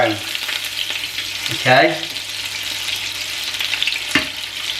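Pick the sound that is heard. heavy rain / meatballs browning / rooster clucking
meatballs browning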